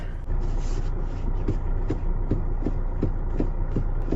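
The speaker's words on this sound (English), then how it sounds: "the steering wheel has a clicking sound when you're turning it" Car steering wheel clicking while being turned, a regular series of soft knocks roughly every half second over a steady low engine hum, close and moderately loud, with no talk.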